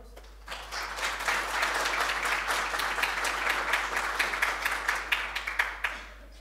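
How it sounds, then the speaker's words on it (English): Applause from a group at an internet governance school session, a sustained wash of clapping that swells after a short pause, holds steady, then thins into scattered individual claps before fading. "So a big clap to our local host."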